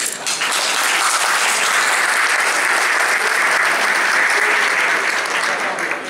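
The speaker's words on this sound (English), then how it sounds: "let's express our thanks with a big applause" Banquet audience at the FUZZ-IEEE 2011 conference gives a loud, dense round of applause that holds steady for several seconds.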